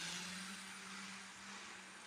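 A small HO scale switcher locomotive, fitted with DCC and added weight, runs along model track with a very quiet steady motor whir and a faint hum.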